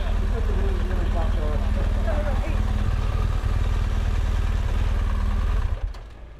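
A motorcycle engine idles close by on a ferry, a loud, even thumping rumble with people talking over it, before the engine cuts off near the end and the sound drops away.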